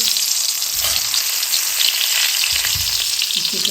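Stuffed brinjals fry in oil in a pan, a dense close sizzle and crackle that fills the whole moment, with a couple of low thumps as pieces are set down, no talk.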